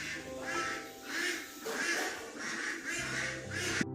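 Village ducks quack loudly outdoors on a cloudy day, calls repeating in a rhythmic chorus of several birds, with a low engine-like drone joining near the end.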